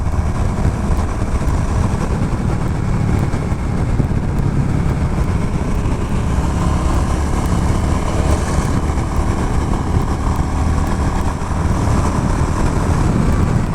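A Royal Enfield Classic 350 Reborn cruising at about 110 gives off a steady, loud engine drone mixed with wind rush, constant with no breaks.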